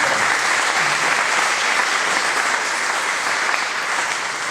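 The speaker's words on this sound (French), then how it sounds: "si vous avez envie de les applaudir" Steady, dense applause from an audience at a public-sector mutual insurance gathering, sustained and fairly loud throughout without any voices.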